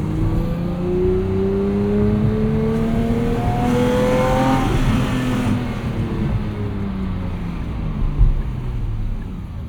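A 2025 Porsche 911 GT3 engine howls up toward a high-rpm wail, its rising tone sweeping steadily upward before easing off, loud and close over continuous road roar.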